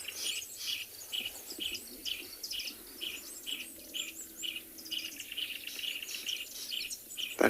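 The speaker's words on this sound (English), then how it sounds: "There's a blackback puffback calling." A black-backed puffback and other birds call outdoors in South Africa, with repeated chirping and whistled notes over a soft background hum, the calls coming at irregular intervals from a moderate distance.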